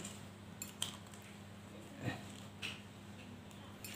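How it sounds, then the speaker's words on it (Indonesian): A spoon scrapes and clinks faintly while rice is spooned into a woven ketupat casing. There are a few light taps and clicks over a steady low hum in a quiet kitchen. "mengisi berasnya ke dalam ketupatnya. Memasukkan berasnya ya."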